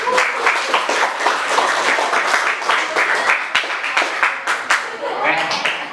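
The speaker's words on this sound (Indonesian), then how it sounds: "Ya, tepuk tangan untuk kalian semua." Applause and clapping from a class of students after group work in a school lesson, a dense steady patter of many hands over about six seconds, with scattered voices mixed in.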